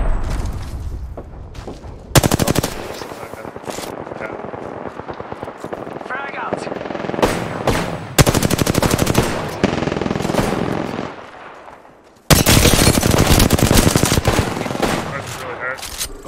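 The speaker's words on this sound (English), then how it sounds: "Opening fire on the enemy." Rapid automatic gunfire from weapons in a sci-fi shooter video game, loud sustained bursts with booms and a pause before another long burst, with game voice callouts and speech in between.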